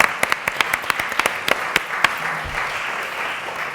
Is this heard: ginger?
no